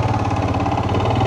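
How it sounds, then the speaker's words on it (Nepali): A motorcycle engine idles steadily at close range while the bike is being parked, a low continuous rumble with no talk over it. "हामी फाइनली यहाँ दिनेशकोमा बिसाइराखौँ बाइक"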